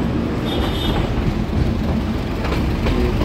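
The Darjeeling toy train rolls into Ghum station, the highest railway station in West Bengal, with a steady, close rumble and faint clatter of the carriages throughout.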